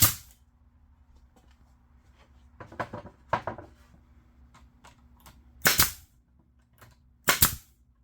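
A brad nailer drives 1.25-inch brads while a foil and plastic wrap dispenser is assembled, firing a few sharp, isolated pops with quiet gaps and faint handling clatter between shots.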